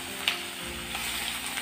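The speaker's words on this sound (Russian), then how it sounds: "Перемешиваю аккуратно." Soft continuous sizzle of onion and pork frying in a wok, with a couple of light scrapes as it is stirred.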